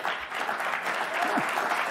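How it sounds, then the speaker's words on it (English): Steady audience applause fills the whole stretch, a dense, even wash of clapping from a large crowd. "always applause for Joy"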